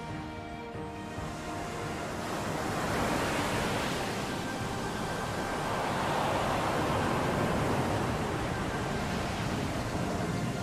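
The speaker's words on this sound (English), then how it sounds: "now you can actually see the whirlpool swirling" A whirlpool swirls in the video game Ōkami, a loud, continuous rushing of churning water that swells gradually and holds steady, with no talk over it.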